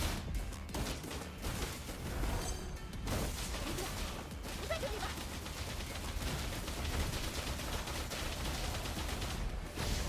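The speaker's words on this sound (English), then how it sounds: "Chixia's resonance skill slides her a short distance while shooting" Rapid gunfire from Chixia's guns in the video game Wuthering Waves, a dense, continuous fusillade of shots mixed with game effects at steady loudness throughout.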